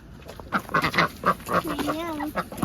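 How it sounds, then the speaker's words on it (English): Newly bought laying ducks quack in a series of close, uneven calls, with a voice talking faintly underneath. "So we just picked up some ducks."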